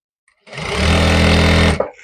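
Sewing machine stitching the neckline of a shirt, one short, loud, close run of rapid whirring stitches lasting just over a second, then stopping.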